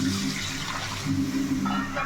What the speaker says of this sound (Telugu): దీంతో రెండు లోటాలు నీళ్ళు వేసుకున్నాము